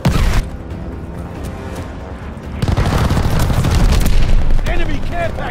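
An air strafe run in the Call of Duty Vanguard video game, a loud burst of booming gunfire and impacts that builds into a dense rumbling barrage, with in-game voice callouts over it.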